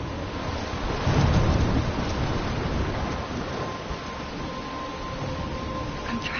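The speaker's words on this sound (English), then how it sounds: "I'm trapped in a storm?" Thunder rumbles low and loud over steady rain hiss and wind in a Life is Strange storm, swelling early and then settling into a constant wash of rainfall.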